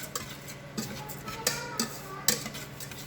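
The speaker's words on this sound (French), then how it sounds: "Alors vous vraiment vous mélangez pour plus qu'il y ait de grains. Il faut que les grains soient enrobés d'huile d'olive." Barley grains coated in olive oil are stirred in a pot, a spoon giving soft scrapes and several sharp taps against the metal at irregular intervals, quiet and close.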